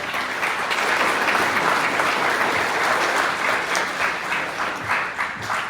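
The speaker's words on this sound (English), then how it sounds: "let's give him another round of applause" A conference audience at a green growth gathering on Saipan breaks into a loud, full round of applause, a thick, even wash of many hands clapping close by for several seconds.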